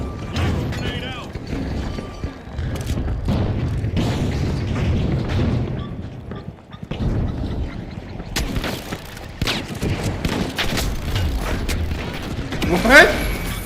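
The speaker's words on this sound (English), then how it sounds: "Grenade out." A grenade detonates during a chaotic firefight in the shooter The Finals, a heavy boom amid scattered gunfire and clattering debris, with players talking over the action.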